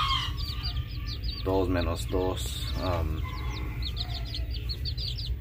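Young chicks keep up a steady, thin high peeping while nearby chickens give a few bursts of low, throaty clucking, with a person speaking briefly over the flock.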